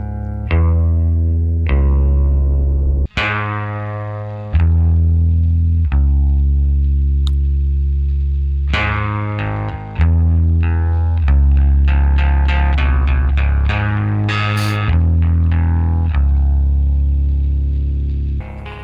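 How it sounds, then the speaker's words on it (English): A heavily distorted electric guitar plays sustained, gritty notes and chords through a loud amp with a cranked master volume giving asymmetrical clipping, ringing out between changes with no voices. "the more you turn up the master volume, the more asymmetrical clipping you're gonna get"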